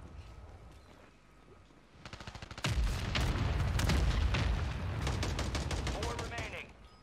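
An airstrike in Call of Duty Warzone: rapid cracking shots build into a sustained, heavy barrage of booming explosions and gunfire that rumbles loudly for several seconds, with voices over it.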